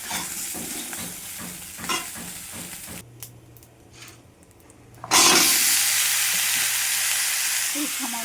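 Onion and ginger paste with salt frying in a pan, a steady loud sizzle and stirring scrapes that drop out briefly and then surge back strongly as the paste hits the hot oil, close up and without speech.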